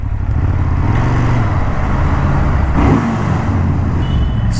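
A Ducati Monster 821 motorcycle with stock exhaust runs loud and close with a deep, throbbing exhaust note, rising slightly in a rev near the middle.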